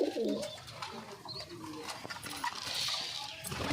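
Pigeons cooing softly in a loft, low murmuring calls that come and go against faint background noise.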